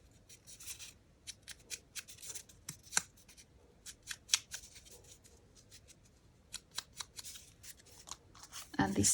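Paper being folded and creased by hand while making Easter egg tags with hidden pockets, heard as a run of quiet, close crisp rustles and sharp creasing snaps at an irregular rhythm.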